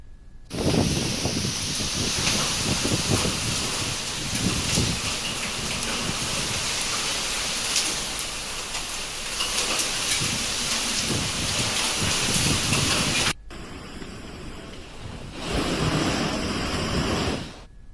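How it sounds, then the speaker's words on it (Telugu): Heavy rain with gusty winds in Alluri district pours steadily with a broad roaring hiss, gusts of wind swelling over it; the downpour briefly drops in intensity near the end before surging again. "అల్లూరి జిల్లాలో ఈదురుగాలులతో కూడిన భారీ వర్షం కురిసింది."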